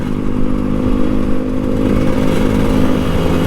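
An old Kawasaki Ninja RR 150 two-stroke sport motorcycle under acceleration while riding, giving a steady, loud, buzzing engine drone with road noise throughout and no talk.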